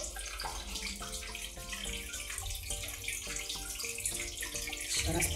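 Small indoor decorative waterfall set among houseplants, giving a steady, even splashing and trickling that carries on without a break, close by and fairly quiet.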